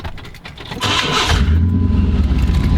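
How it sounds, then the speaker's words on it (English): A 1998 GMC Sierra SLT truck engine cranks briefly, catches with a loud burst and settles into a deep steady idle, close by. "Go ahead and start the truck so I can show you how they look from underneath"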